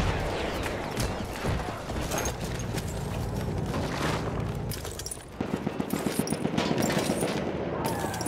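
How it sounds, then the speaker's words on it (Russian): Machine gun fire in a Battlefield 1 video game battle, a dense and fairly quiet barrage of shots and explosions that turns into faster rhythmic bursts near the end. "Там пулемет."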